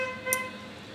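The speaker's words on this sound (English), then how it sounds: "you see that honking that they're doing?" A car horn toots once briefly in the middle of steady traffic and road noise, with tonal engine or horn hum running throughout.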